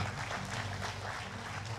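A church congregation claps together in a dense, steady wash of applause that fills the room evenly, with no voices standing out.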